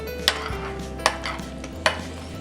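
A spoon mixes mango shrikhand with finely chopped cashews and pistachios in a bowl, giving three distinct clinks against the bowl spaced about a second apart over a soft scraping hum.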